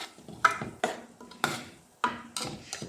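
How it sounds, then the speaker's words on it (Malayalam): A spoon stirring tapioca and mung bean curry in a pot, about six distinct scraping, clinking strokes at an uneven rhythm, close and fairly quiet. "അപ്പം അരപ്പ് ചേർത്ത് കൊടുത്തതിന് ശേഷം നന്നായിട്ട് ഒന്ന് ഇളക്കി കൊടുക്കണം."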